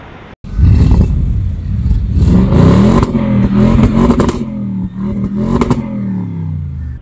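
An Audi RS7 all-wheel-drive super sedan's engine revs up hard and is held bouncing against the soft limiter, a loud, close, rising roar with repeated brief dips and sharp clattering cuts.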